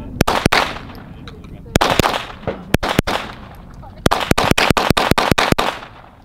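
An FN 502 .22 LR pistol fires a string of sharp, close cracks: a few spaced shots, then a quicker run of about ten rounds, with outdoor background noise between them.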